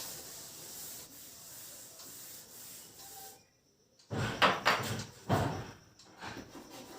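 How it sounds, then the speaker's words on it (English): A classroom board being erased by hand, a few firm rubbing strokes after a short lull, close and fairly loud with no talking over them. "Let's rub the board."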